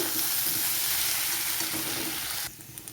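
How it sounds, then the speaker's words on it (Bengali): Garlic and ginger paste sautéing in a pan, a steady close hiss and sizzle that drops away abruptly near the end, leaving faint clicks, with no talking. "এই রসুন আর আদাটাকে খুব ভালো করে এর সাথে আমি কষিয়ে নেব, যাতে কাঁচা গন্ধটা না থাকে।"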